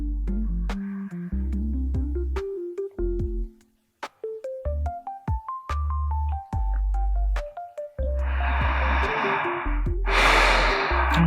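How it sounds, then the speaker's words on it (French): Deep breathing during a Yogalates stretching and recovery flow: two long, airy exhalations near the end, following a stretch of soft, rising tonal music. "On essaie de donner un peu plus de profondeur à sa respiration."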